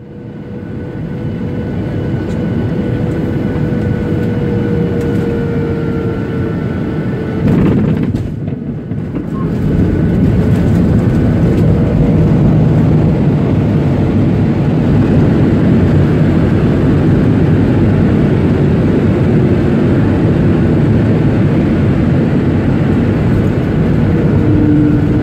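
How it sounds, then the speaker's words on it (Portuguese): A passenger airplane lands at Recife, a loud, steady broadband cabin roar that persists throughout, with a brief dip and bump around the eighth second before the rumble resumes. "Aqui temos um vídeo com o pouso em Recife."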